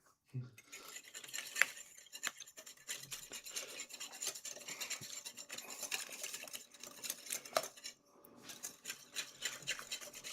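Quiet, busy scraping and rapid stirring of a French whisk working through a batter in a bowl, with brief pauses and small clinks against the sides.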